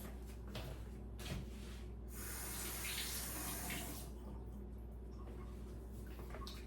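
Strawberries rinsed under a running kitchen tap, a steady close rush of water into a sink with brief splashy bursts as the fruit is turned in the stream, alone without talk.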